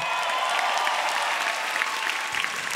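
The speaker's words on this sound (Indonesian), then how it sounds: "Segini doang nih sambutan buat gue, tepuk tangannya." Applause from an audience at a stand-up comedy grand final, a steady dense wash of clapping held at an even level throughout, moderately loud and without any voices over it.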